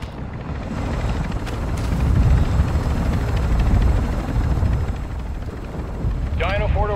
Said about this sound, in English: Get back here, helicopter.